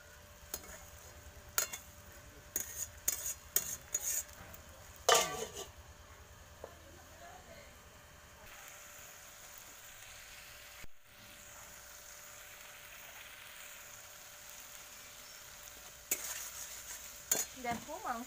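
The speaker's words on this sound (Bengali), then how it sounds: "দেখো সামান্য একটু জল দেব, দিয়ে এই মশলাটাকে আমি কষিয়ে নেব।" Spice masala for a country chicken curry is stir-fried in a pan with a splash of water. Soft sizzling runs under repeated clinks and scrapes of a utensil, with a quieter steady stretch in the middle.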